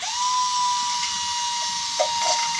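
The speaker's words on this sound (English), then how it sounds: "Drill a hole in the middle of the can." A high-pitched power drill whines steadily while boring a hole through the middle of a metal can, close and loud, with a couple of brief bumps near the end.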